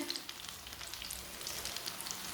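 Spinach pakoras deep-frying in hot oil give a steady, close sizzle with fine crackling pops throughout, moderately quiet and free of speech.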